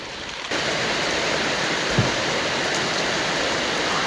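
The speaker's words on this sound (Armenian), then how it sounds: "Անձրևը գնալով վարարում է" Heavy rain pours in a dense, continuous hiss that swells after a quieter first moment, with a single soft thump partway through.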